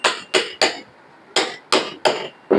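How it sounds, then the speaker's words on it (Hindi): Hammer blows fitting a Tullu pump motor into place, seven sharp metallic knocks in irregular clusters, close and loud with no talk. "धीरे धीरे हथौड़ी से मार मार के छूट करके हम इसको प्रॉपर तरीके से फिट कर लेते हैं"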